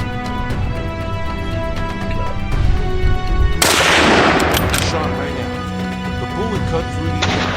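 A rifle shot fired at a wild boar during a hunt, a loud sharp blast at mid-clip that rings out and fades, over steady background noise and a low hum.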